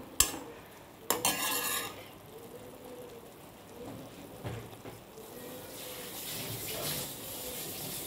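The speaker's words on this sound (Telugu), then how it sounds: "ఇప్పుడు ఇది సిమ్లో పెట్టి వేగనివ్వాలి." Vegetables for a paneer dish fry gently on low heat in a pan, giving a soft steady sizzle, with a few scraping stirs and clinks early on.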